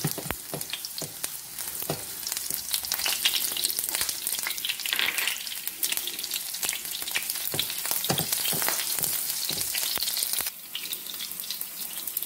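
Onion browns in hot oil for a chipotle sauce, a loud, dense and continuous frying crackle with scattered sharp pops and stirring scrapes that runs throughout and eases slightly near the end.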